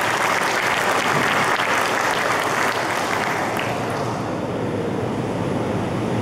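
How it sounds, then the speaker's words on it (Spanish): Sustained applause from an audience at the official opening of the AgroShow Copronar 2023 agricultural fair, dense and steady, then thinning slightly toward the end. "Gracias por venir. Un aplauso."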